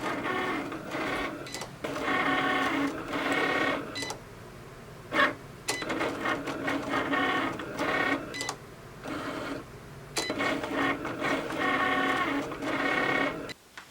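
A Cricut machine cuts genuine leather with a deep point blade, whirring and buzzing in short motor bursts with brief pauses between passes, close and fairly quiet, no talk.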